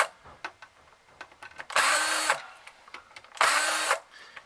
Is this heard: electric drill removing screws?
yes